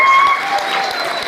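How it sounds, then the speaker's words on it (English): Applause from a crowd at a medical and dental graduating class induction ceremony for the college band, a steady dense wash of clapping with some voices mixed in. "Give them a round of applause."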